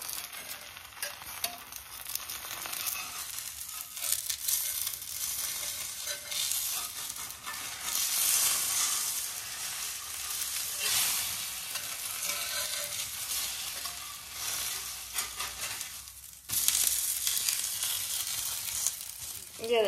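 A foxtail millet chilla fries in a pan with a continuous sizzle that rises and falls, broken by a brief dip as it is handled, with scraping from a spatula pressing it down.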